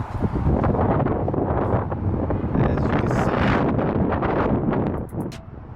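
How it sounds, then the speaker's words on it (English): Strong wind buffeting the microphone outdoors next to a 2020 Dodge Charger Scat Pack, a loud continuous rumbling roar that fades slightly at the end. "Damn, it's windy as hell."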